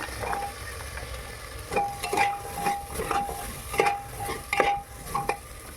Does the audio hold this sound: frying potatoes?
yes